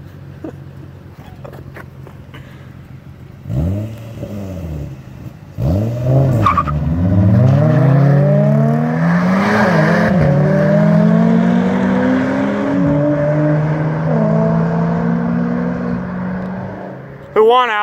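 A Nissan 350Z and a GTI racing, engines revving up through rising gear pulls with tire squeal, loud and close, running for most of the stretch before cutting off near the end.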